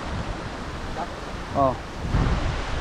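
Choppy sea waves wash and churn in shallow water during a spearfishing outing in the Philippines, with wind buffeting the microphone and a brief voice exclaiming partway through.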